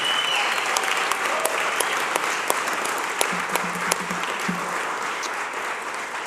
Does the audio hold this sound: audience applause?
yes